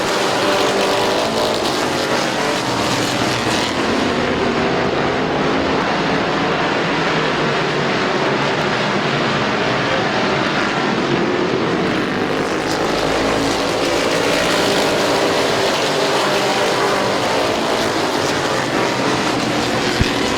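Stock race cars roar around the track at Midvale Speedway during the 2018 Fall Classic, a loud, continuous engine drone from the pack rising and falling as cars pass, with no voices.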